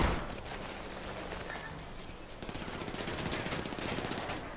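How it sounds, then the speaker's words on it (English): Rapid automatic gunfire in GTA 5 Online, with dense bursts of shots that grow louder after the midpoint and keep going without pause, heard from within the game. "Wait, who was shooting?"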